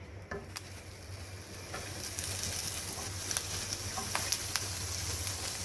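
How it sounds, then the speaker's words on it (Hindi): Eggplant slices fry in oil in a frying pan over high heat, a steady close hiss of sizzling with scattered small crackles and pops growing slightly louder over time. "जो इसके बैंगन के मैंने स्लाइसेस काटे थे वो इस पे फ्राई करूंगी"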